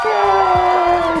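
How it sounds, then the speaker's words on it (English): A short crowd-cheering sound effect bursts out loud and full, a dense mix of whoops and shouts carried over a sustained tonal ring for about a second. "Crowd goes wild!"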